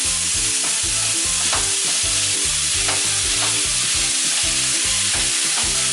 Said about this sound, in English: So Bonnie's going to go ahead and cook the ground beef on medium heat.